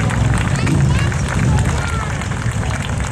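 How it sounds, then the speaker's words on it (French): Audience applause welcoming a speaker on stage at the Brescoudos 2015 bike gathering, a loud, dense and steady wash of clapping and crowd noise mixed with voices throughout. "Sous vos applaudissements, s'il vous plaît."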